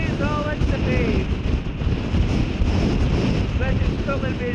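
Strong wind buffets the microphone on a coastal bike ride near a bridge, a continuous loud rushing roar that nearly swamps a voice speaking underneath.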